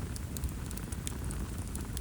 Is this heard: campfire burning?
yes